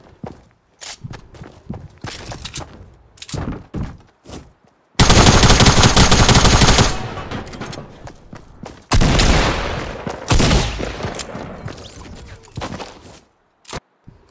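Automatic gunfire rattles in the video game Fortnite, bursts of sharp shots separated by gaps with a few single cracks and footsteps, loud and close.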